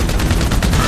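Rapid automatic gunfire in the video game GTA 5, a loud, dense burst of repeated shots fired in quick succession throughout the short moment, with no voices over it.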